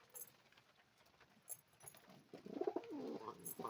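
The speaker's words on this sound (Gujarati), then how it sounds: "આવા છે આપણા કંઈક કબૂતર" Domestic pigeons gathered in a corner of a home loft, giving soft low cooing that builds toward the end of a short stretch, faint and close, with light rustling and no talk over it.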